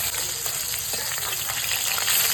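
Pieces of rohu fish sizzle steadily in hot oil in a home kitchen as a Bengali fish curry with taro is prepared. The frying is close, continuous and bright, with crackling pops throughout and no talking.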